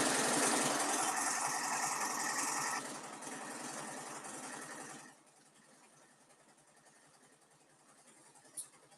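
A sewing machine stitches a mini top-handle tote bag, running as a steady, close mechanical whir for about five seconds before stopping, leaving a quiet room with one small click near the end.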